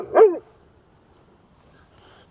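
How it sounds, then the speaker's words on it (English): An ornery old big dog gives one loud, gruff bark close by during a morning walk, then quiet outdoor background follows. "Just that ornery old dog."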